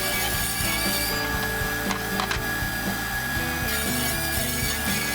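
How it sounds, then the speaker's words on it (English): Wood boards being trimmed for a box shelf: a steady, fairly loud cutting and rubbing run through the whole stretch, with a regular rhythmic pulse and a faint squeal, close by and with no voices. "I need to trim off a little bit of each of these boards before I do the final milling."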